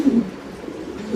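Lahori pigeons at a pigeon farm give a few low, soft coos up close, short and plain.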